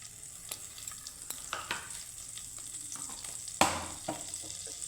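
A spoonful of butter sizzles quietly in a pan, a faint steady hiss with scattered clicks of a spoon and one sharper clatter, no voices.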